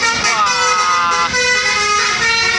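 A tour bus sounds its Basuri telolet musical horn near a road tunnel approach, a loud, continuous melodic run of bright sliding tones that rises and falls, with engine rumble beneath.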